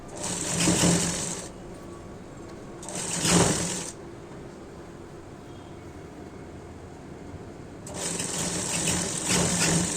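A sewing machine stitching the hem of a chudithar runs in three bursts of rapid, whirring mechanical chatter, close and clear, separated by quieter pauses with faint handling noise.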